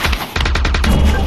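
Rapid gunfire in the VR shooter game Aim XR, a quick burst of sharp loud shots in a tight rhythmic string after a brief pause.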